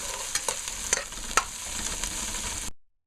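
Seasoning frying in a pot as the base for a beef stew, a steady close sizzle with a few sharp crackles and stirring scrapes, ending abruptly in silence.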